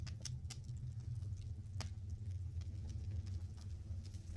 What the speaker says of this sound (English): I think there's a car outside revving their engine.